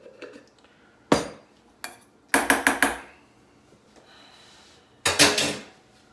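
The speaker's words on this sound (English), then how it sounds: "With a whisk. So give it a good mix." A metal whisk clinks and knocks against a bowl while mixing mustard and egg yolk for homemade mayonnaise, in a few separate bursts of quick, close taps with quiet gaps between.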